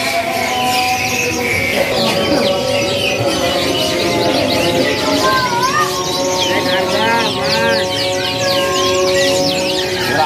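Canaries sing at a bird market stall in a continuous, dense chorus of bright trills and warbles, with market bustle and a few voices talking underneath.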